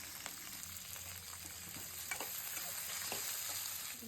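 Capsicum frying in oil in a pan for chitranna, with curry leaves and green chillies, gives a quiet, even sizzle with occasional small pops and light stirring scrapes, heard alone without talk.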